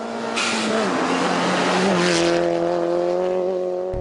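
Rally car driving hard on a road during a rally, a loud, close engine roar that holds steady and shifts pitch as it revs, with a brief tire squeal near the start.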